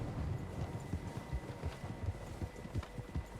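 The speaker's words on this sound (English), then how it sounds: "Horses, quite a few of them." Several horses in the Red Dead Redemption 2 game moving at a run, a steady stream of low hoof thuds and clip-clop beats in a fairly quiet outdoor scene, moderately distant, with no talking.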